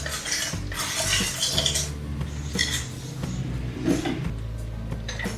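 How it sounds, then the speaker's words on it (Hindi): A metal spoon stirring and clinking against a bowl while custard sharbat ingredients are mixed, giving continuous close scraping and intermittent taps with no voices. "अब सारी चीज़ों को मिक्स कर लेंगे।"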